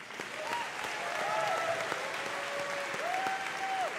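At a commencement ceremony, an audience breaks into steady, full applause, a thick wash of clapping heard alongside a few faint sustained tones in the room.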